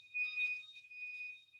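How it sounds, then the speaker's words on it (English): A false fire alarm in an apartment beeps as a thin, steady high-pitched electronic tone, faint and continuous with slight pulsing, no voices. "Sorry, there's a false fire alarm."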